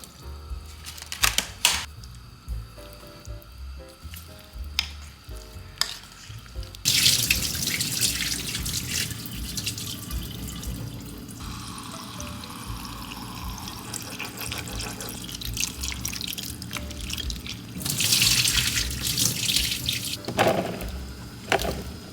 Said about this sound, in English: All right, blueberries are washed.